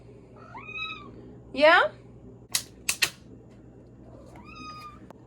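A hungry kitten gives two drawn-out meows before dinner, and a sharper, louder meow comes between them. A few sharp clicks follow, and a brief word is spoken.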